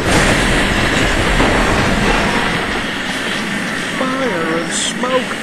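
A train rumbles steadily on rails in a re-enactment, a loud continuous roar with clattering texture, while a narrator speaks over it.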